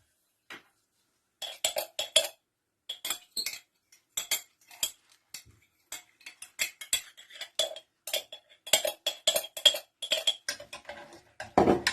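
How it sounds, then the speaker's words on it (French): A utensil stirs lye into water in a container, making irregular bursts of close metallic and glassy clinks and scrapes separated by short silences, steadily growing busier. "Mélange bien le tout jusqu'à dissolution complète de ta soude"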